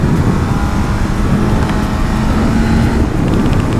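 A Honda Hornet motorcycle engine runs loud and steady at close range, a continuous throaty drone with no break, outdoors on a ride with friends.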